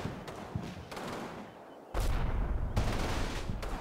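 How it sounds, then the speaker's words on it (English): Small arms and mortar fire in the Combat Mission Normandy war game: dense crackling bursts of gunfire with heavier booming impacts, loud and continuous with a brief lull before a stronger barrage. "All along the front, the British are pressing me with small arms and mortar fire."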